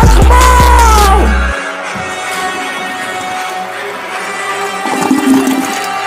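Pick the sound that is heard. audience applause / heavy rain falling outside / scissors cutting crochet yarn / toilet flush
toilet flush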